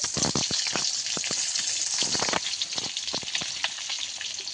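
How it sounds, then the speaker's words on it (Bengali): Fish fries in a pan, giving a steady close sizzle with scattered crackles and pops, spitting oil bursts throughout and no talking. "শুধু জাস্ট ভেজে নিয়েছি এইভাবে"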